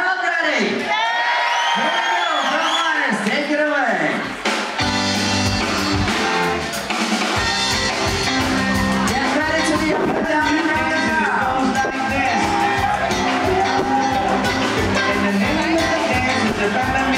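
A lively crowd aboard the cruise ship Allure of the Seas cheers, whoops and shouts loudly and continuously, with voices yelling over the roar.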